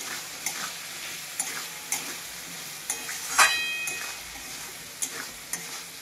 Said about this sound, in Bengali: এইভাবে কিছুক্ষণ ভাজতে থাকবো, তারপরে পরে জল দেবো।